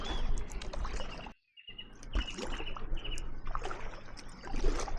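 A kayak paddle dips and splashes through water in a steady rhythm, with trickling drips and birds chirping nearby, broken by one brief moment of silence.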